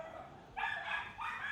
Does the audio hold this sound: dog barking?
yes